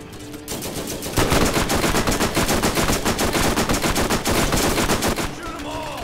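A turret in the Borderlands shooter fires loud, sustained automatic bursts, a dense rapid stream of shots that runs almost unbroken for several seconds, with game noise around it.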